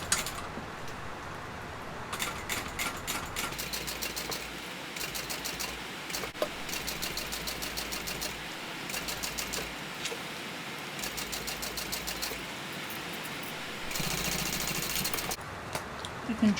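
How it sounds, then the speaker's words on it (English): A sewing machine topstitches along the top edge of a tote bag's slip pocket, running in several steady bursts of rapid mechanical chatter separated by short pauses, close and fairly quiet. "So I'm top stitching 1/8 of an inch from this top edge."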